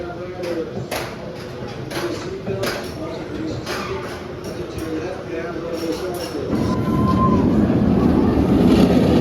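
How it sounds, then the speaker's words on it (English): The Green Lantern roller coaster train rumbles into the station, its low roar swelling louder near the end, with people talking over it. "Here comes my train for Green Lantern."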